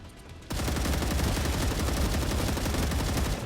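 Sustained, dense video-game gunfire with piercing ammo in a factory-building game, a loud continuous rattle of rapid shots kicking in after a short quieter lead-in and running steadily to the end.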